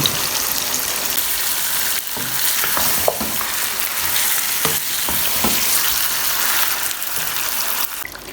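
Loud, steady sizzling from chicken frying with turmeric and ginger-garlic paste in a hot pan for chicken karahi, with occasional scraping as it is stirred; close up, no voices.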